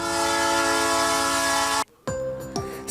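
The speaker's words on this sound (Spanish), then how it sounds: "Hizo su gran aparición a paso lento, con las luces encendidas y el característico silbato." A double-decker train on the Lima to Chosica route rolls in slowly, its horn blowing a loud, sustained multi-tone blast that cuts off abruptly and then returns in shorter bursts.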